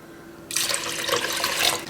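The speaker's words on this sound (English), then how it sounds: "now just rinse that out with some water" Water runs suddenly into an empty 400 gram coconut cream can to rinse it out, a steady close splashing gush that starts abruptly and continues without talk.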